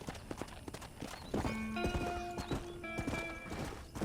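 Hooves of a horse in the video game Red Dead Redemption clop in a quick, rhythmic gallop, joined by a brief whinny partway through, all fairly close.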